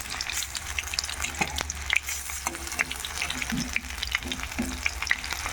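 Radish slices fry gently in a pan on a low gas flame, a steady close sizzle broken by small pops and occasional soft utensil clicks, without voices.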